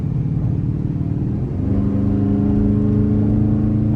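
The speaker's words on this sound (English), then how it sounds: "Dodge Charger coming through." Dodge Charger R/T on the highway with a warming engine, giving a steady loud low rumble and whir that swells into a rising rev partway through, heard from inside the car.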